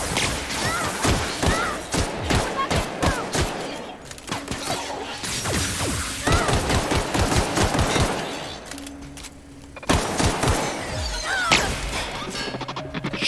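Gunfire in the video game The Outer Worlds, in a fight between Edgewater and rebels: rapid bursts of shots and sharp impacts go on almost without a break. They are loud and close, with a short lull near the end.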